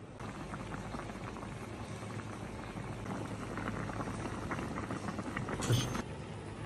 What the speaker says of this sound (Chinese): 开火，咱们炖十分钟。